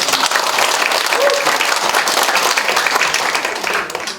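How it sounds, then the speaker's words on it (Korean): A crowd at a town hall gathering in Seolseong-myeon, Icheon, breaks into dense, loud applause that holds steady and then begins to fade at the end, with a voice briefly audible beneath it. "박수 한번 쳐주세요"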